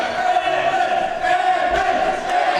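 A crowd at a live wrestling event cheering and chanting steadily, a dense continuous roar with sustained voices.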